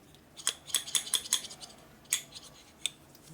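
Small metal clicks and light rattles from a wrist pin clip being slid up and down inside a motorcycle piston on a 1988 Harley FXR, a quick irregular series of close, faint metallic ticks.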